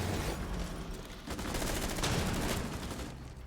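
Sustained automatic gunfire rattles loudly and continuously in a Rainbow Six Siege esports match, dense bursts running throughout without pause.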